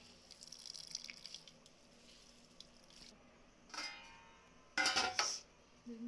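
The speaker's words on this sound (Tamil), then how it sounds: "பார்த்தீங்களா எவ்வளோ தண்ணி வருது" Water trickling and dripping as grated bottle gourd is squeezed by hand in a home kitchen, soft close patter with a few louder wet splashes and faint clinks of a bowl, no voices.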